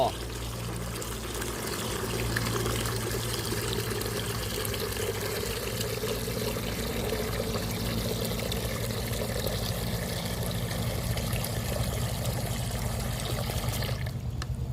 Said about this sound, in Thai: แล้วก็ใส่น้ำลงไปในนี้ ประมาณ 5 ลิตรถึง 10 ลิตรก็ได้